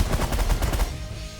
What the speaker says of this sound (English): I'm actually going to switch to bullets now.